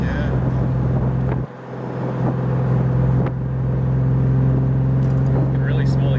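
A BMW E36 with a turbocharged M52 engine runs at a steady idle, a low constant drone with a short dip in loudness early on, then holding even and close for the rest.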